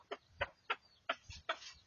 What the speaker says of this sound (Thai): ไก่ป่าไก่ต่อบ้านแถวครับ เลี้ยงเพื่อขยายสายพันธุ์ครับ